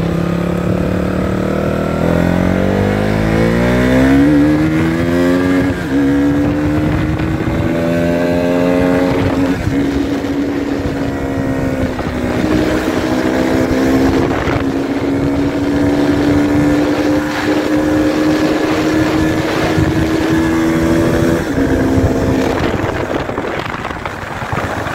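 A KTM Duke 200 motorcycle engine with a high-rev power loss drones steadily on a test ride, its pitch climbing through the gears and then holding a sustained, loud hum.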